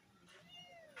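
A house cat meows in a rising and falling drawn-out call, close and clear, ending in a louder burst at the finish; no talking.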